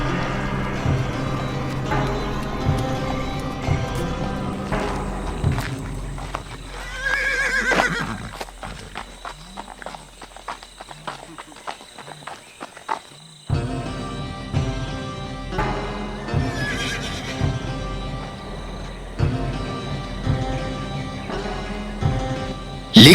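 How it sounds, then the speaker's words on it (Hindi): A horse in a narrated story whinnies repeatedly while hooves clip-clop rhythmically, the sounds layered over a busy background score, with a short quieter stretch midway before the galloping and neighing return. "कुछ भी नहीं नाम के घोड़े पर 1 सप्ताह यात्रा करना पड़ता है।"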